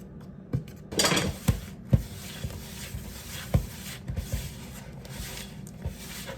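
Pasta dough ingredients mixed by hand in a flour well, close soft rubbing and scraping with scattered sharp taps and knocks on the work surface.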